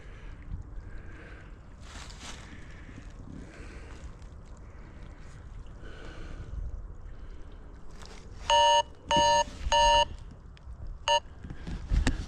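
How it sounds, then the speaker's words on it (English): An alarm clock rings in several sharp electronic bursts near the end, loud and close over quiet outdoor background noise. "Alarm."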